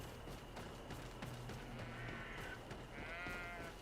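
Sheep in the video game GreedFall bleat a couple of times, drawn-out wavering cries at moderate volume over a steady ambient game background.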